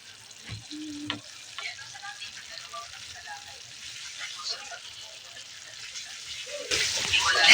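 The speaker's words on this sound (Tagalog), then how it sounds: "Nagluluto na guys yung ating gulay na adobong talbos" Adobong talbos, sweet potato leaves, cooking in a pan: a soft, steady sizzle with light stirring and a few clinks, quiet and close, growing louder near the end.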